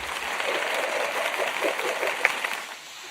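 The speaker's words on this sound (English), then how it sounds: "We need to give him a hand clap." Audience applause at a live talk-show event, a steady dense wash of clapping that holds for about three seconds and then eases, with no voices over it.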